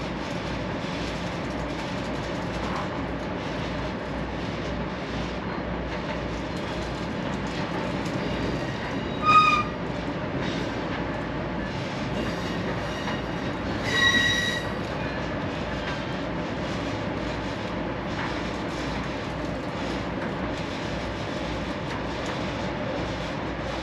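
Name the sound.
Amtrak passenger train moving, wheels squealing on rails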